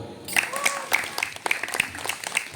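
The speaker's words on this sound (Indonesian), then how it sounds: "Tepuk tangan." A small audience at a Muharram commemoration claps in a quick, scattered burst close by, with a person talking over the clapping.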